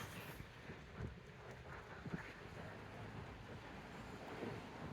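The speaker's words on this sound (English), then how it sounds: "The wind's blowing and things like that." Wind blowing outdoors on a fairly mild day, a steady broadband rushing with low rumbling buffets against the microphone, moderately faint and continuous throughout with no talking.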